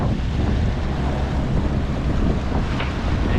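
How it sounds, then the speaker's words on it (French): A sailboat motoring under engine with a 10-12 knot tailwind on a transatlantic crossing, its steady low drone blending with constant wind buffeting and rushing water, no voices. "on finit au moteur puisque on a le vent en plein dans le dos avec 10-12 de vent"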